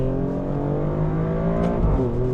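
The deep exhaust of a 2024 Alfa Romeo Stelvio Quadrifoglio revs up close, its throaty drone rising in pitch with a brief jump near the end.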